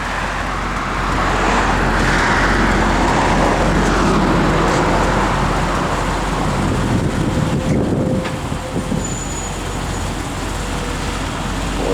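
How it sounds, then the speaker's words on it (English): Dense road traffic rushing past a parked 1980 Chevrolet Corvette outdoors, a steady loud roar of passing cars with wind buffeting the microphone throughout, no one speaking. "just a ton of traffic."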